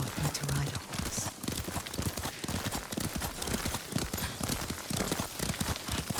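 Horse hooves clip-clop steadily in Ghost of Tsushima as a rider travels, a continuous close rhythmic trot of hoofbeats with game dialogue and voices heard alongside.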